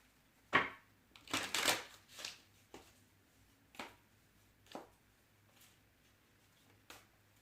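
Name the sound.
shuffling cards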